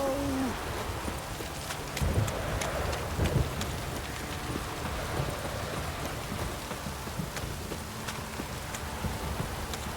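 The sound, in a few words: rain in a video game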